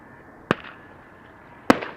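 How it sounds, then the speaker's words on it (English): Two sharp bird-scaring firework bangs set off at Schiphol Airport, each a loud crack with a short decaying tail, about a second apart over quiet outdoor background. "number 2 is setting off some fireworks to chase away the birds"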